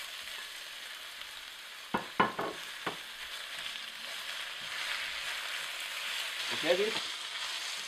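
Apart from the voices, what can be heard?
tofu frying with green onions and dark mushrooms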